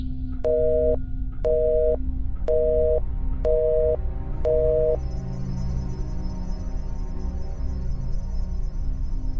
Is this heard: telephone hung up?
yes